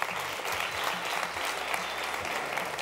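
Studio audience at a Uruguayan TV talk show applauds steadily and close, a dense even wash of clapping with no break over its whole length.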